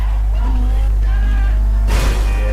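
A car drives in GTA V Online, its engine droning loudly with tire noise and a sudden burst near the end, while someone talks over it.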